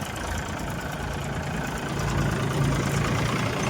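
A loaded tractor's engine idles nearby, a steady low rumble with a slight rise toward the end and no voices over it.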